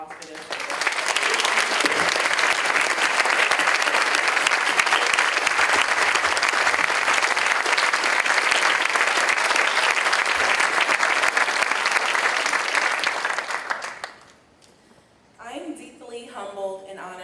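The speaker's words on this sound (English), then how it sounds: "give them a round of applause for their service" A large audience applauds the program committee at a leadership gathering, steady dense clapping for about fourteen seconds before it cuts off, followed by a moment of quiet and faint voices.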